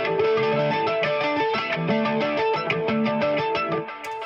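Two layered electric guitar parts, one an octave above the other, play a loose, effected, slightly distorted melodic line together, steady and up front with no talking.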